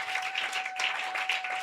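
Church congregation applauding steadily, a dense, even wash of clapping that holds at a constant moderate level without pause.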